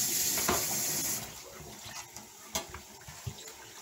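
Water runs over gungo peas being rinsed for Jamaican soup, a steady splashing stream that stops partway, followed by scattered drips and light knocks of the peas and container.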